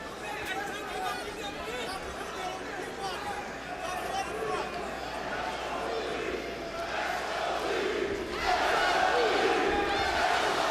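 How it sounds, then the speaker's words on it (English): A large boxing arena crowd at Mandalay Bay roars steadily through a fight, dense chatter and shouts swelling louder toward the end as the noise builds. "the crowd cheer from around the Mandalay Bay"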